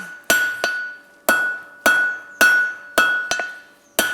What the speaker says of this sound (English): I can get in there nicely with my hammer